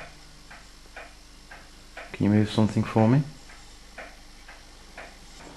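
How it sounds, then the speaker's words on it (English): Small clock or watch ticking steadily in a quiet indoor room at a heritage railway station, faint and regular, briefly covered by a man's speech in the middle. "I'm occasionally aware of a little ticking noise. It sounds very much like a watch."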